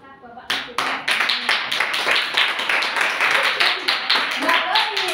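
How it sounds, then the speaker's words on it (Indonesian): A small group of people clap their hands in a room, quickly and unevenly, for about five seconds after a short moment of speech. "Iya, tepuk tangan."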